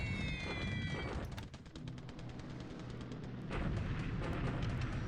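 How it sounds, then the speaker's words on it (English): Sally bombers striking troops along a front line in the War in the Pacific strategy game, with heavy booming blasts and rapid crackling gunfire, a few high whistling tones early on, loud and continuous, with no talking. "now we got Sally's bombing our troops on this line here"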